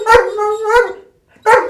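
A police K-9 dog gives three loud, close barks in quick succession, with a short pause before the last.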